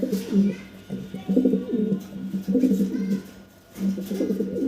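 A pair of large fancy pigeons coo in a steady repeating rhythm, four throaty rolling bursts with short pauses between, close by with faint background noise.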